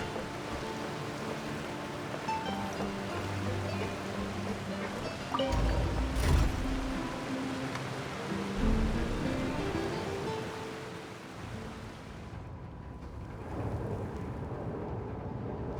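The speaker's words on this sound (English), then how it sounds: "Is it like a water elevator?" A steady roar of rushing water fills a water elevator in the video game Genshin Impact, a broad continuous wash with heavier surges partway through and no voices.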